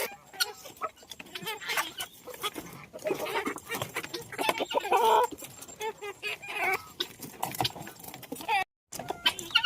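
Busy clucking from several chickens feeding close by, mixed with pecking, rustling and clinking, steady over most of the clip.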